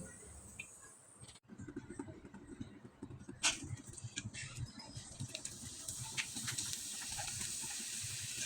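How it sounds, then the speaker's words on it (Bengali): Rice flour designer chips frying in moderately hot oil, a steady soft hiss and bubbling with faint crackles building up after a brief drop in sound. "এভাবে চিপসগুলো ভেজে নিতে হবে"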